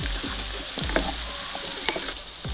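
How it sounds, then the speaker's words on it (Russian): Steady, crackling sizzle of diced zucchini frying in a pan, with occasional soft stirring clicks throughout. "Обжариваем также еще 2-3 минуты."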